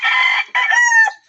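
Chickens crowing and clucking up close, two loud, harmonic calls with a short break between them, the second rising and holding before it fades.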